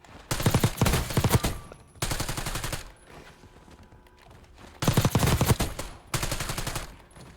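Four loud, close bursts of rapid automatic fire from a Jackal gun with a 50-round magazine in Warzone, separated by short gaps.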